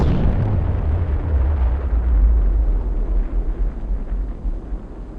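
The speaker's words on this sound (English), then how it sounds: "Big bomb." A large nuclear bomb test explosion gives a loud, deep, roaring rumble that fills the whole stretch. It rolls on steadily and fades only slightly toward the end.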